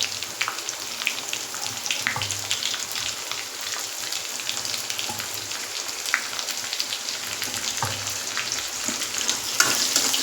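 Garlic and chopped onion fry in a hot pan with a steady, close crackling sizzle and occasional stirring scrapes, with no voices.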